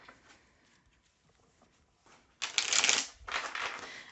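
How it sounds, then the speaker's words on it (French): Tarot cards are shuffled in two quick riffling bursts after a quiet stretch, close and crisp, with no speech. "on va faire un tirage à 13 cartes."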